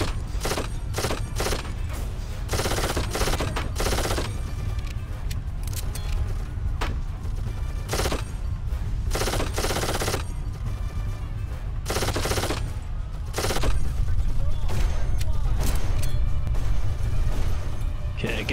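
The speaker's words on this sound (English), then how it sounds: "Fragging Romans with submachine or with automatic weapons." Automatic weapons fire in Darkest of Days, set in Pompeii in 79 A.D., with submachine guns cutting loose on Roman soldiers: long, loud, continuous bursts and sharp repeated cracks that rattle over a heavy rumble and grow louder toward the end.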